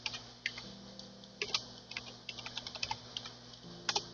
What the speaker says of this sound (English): I'm going to type in my password now.